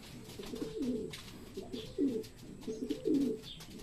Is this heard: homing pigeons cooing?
yes